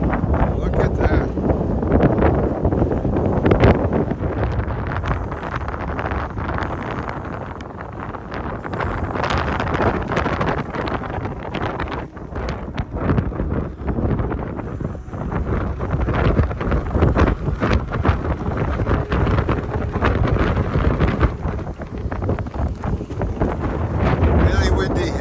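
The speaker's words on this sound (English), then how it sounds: "It's incredibly windy here." Strong, gusting wind buffets the microphone continuously at Godafoss waterfall in Iceland, a loud broadband roar with rumbling gusts that swell and ease throughout, with occasional voices underneath.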